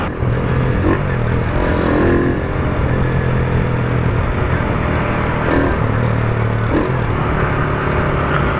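Carbureted Honda Titan 150 motorcycle running close by, a continuous loud engine drone with mild revving swells and some rattling, with no speech over it.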